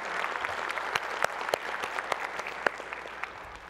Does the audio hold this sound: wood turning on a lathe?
no